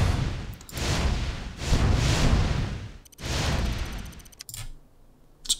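Bursts of unit gunfire in the Command & Conquer Remastered Red Alert Soviet campaign, several dense broadband volleys of rapid shots in a row, loud and close, with a few sharper bangs toward the end.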